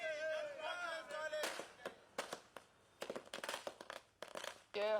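Firecrackers set off by Congress party workers in Rajkot celebrating the announcement of international flights at Hirasar airport, bursting in rapid, crackling clusters after a voice at the start, with further talk between the bangs.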